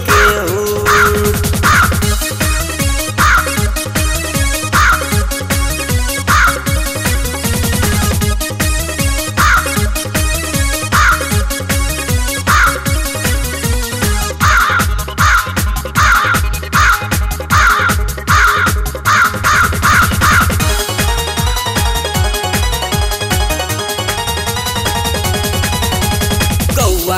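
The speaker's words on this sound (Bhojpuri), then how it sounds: "केने गइलिस रे कौआवा चोली लेके उड़" Crow-like caws ring out in repeated rhythmic bursts within a loud Bhojpuri song, layered over the steady beat and instruments.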